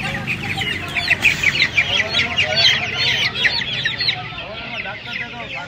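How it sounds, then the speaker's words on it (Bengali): One-month-old Australian chickens cluck and chatter at a busy poultry market, many birds calling over one another in dense, overlapping bursts, loud and close, with voices murmuring underneath. "এই একটা অস্ট্রেলিয়া মুরগি দেখতে পাচ্ছেন, এটা 1 মাস বয়স।"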